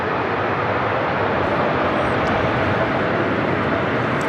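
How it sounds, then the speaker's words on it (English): Delta Airlines Airbus A321neo arriving from Seattle at LAX, a steady broadband engine roar held at even loudness throughout, with no talk. "This is Delta Airlines 2769 coming in from Seattle on an"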